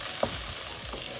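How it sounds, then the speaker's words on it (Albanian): Peas fry in a pan of oil for an arugula soup, giving a steady, close crackling hiss with a couple of faint stirring knocks over a little more than a second. "Pra pas janë skuqur bizelet"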